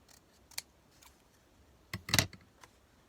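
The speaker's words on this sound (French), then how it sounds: "Je vais les couper." Scissors snip through small pieces of paper while a holiday paper box is being made, a few sparse quiet cuts followed by a louder cluster of quick snips, with no talking.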